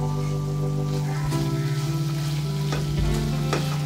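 Tamarind pulp being stirred into green beans frying in a pan, with a steady close sizzle and soft scraping stir strokes, and a low hum running underneath throughout.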